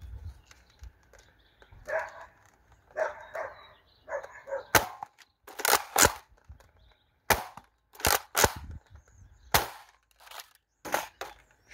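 A modified X-Shot Pro Fury-X foam dart blaster fires at a tarp: a dozen or so sharp, snappy cracks at irregular intervals, some in quick pairs, close and loud over faint background rustle.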